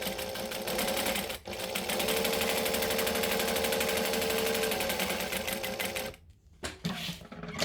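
A sewing machine stitching a line on a vinyl pouch, a fast, steady mechanical whirring of the needle running continuously for about six seconds, then stopping with a few soft clicks and handling noises.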